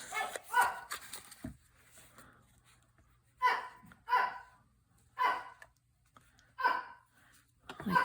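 A dog in a quiet room gives a series of soft, breathy huffs and short muffled woofs, spaced a second or so apart at low volume.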